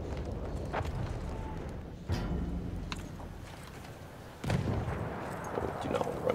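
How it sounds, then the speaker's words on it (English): Heavy enemy artillery barrage in the World War I shooter Battlefield 1, a dense rumbling wash of distant blasts with loud impacts jolting in around two and four and a half seconds, continuing without pause. "Wait for the enemy artillery barrage to stop firing."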